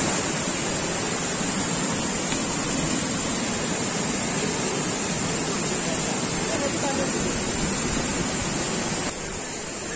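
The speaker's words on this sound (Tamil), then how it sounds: "அந்த தண்ணி கீழே போகுது பாருங்க." Water pours down Bheeman waterfall in the Javadhu Hills, a close, loud and unbroken roar of rushing, splashing water that holds steady and drops slightly at the very end.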